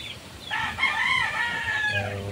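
A Red Kelso Super Sweater rooster, a medium-sized gamefowl stag, crows once in a long, bright cock-a-doodle-doo, close by and ringing over faint background noise.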